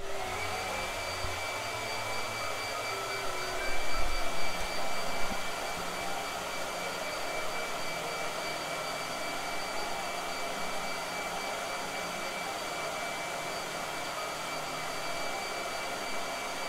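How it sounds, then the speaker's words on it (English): A hair dryer blows steadily to dry paint on a canvas, a constant close whirring hiss that runs without a break, with a brief bump in loudness near the start. "Blow dryer."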